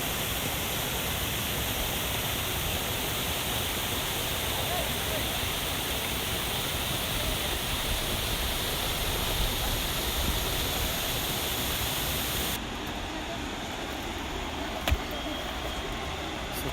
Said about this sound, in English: The view of the waterfall from the top.